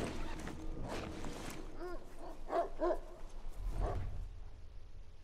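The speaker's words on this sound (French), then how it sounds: "J'entends les chiens" Dogs bark repeatedly in the video game The Last of Us, sharp yelps in short clusters at a moderate distance over a low background rumble.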